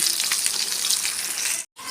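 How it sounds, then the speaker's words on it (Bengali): Continuous loud sizzling of fish frying in hot oil in a pan, crackling steadily before a sudden brief dropout near the end. "ওদিকে মাছ ভাজাটা হচ্ছে"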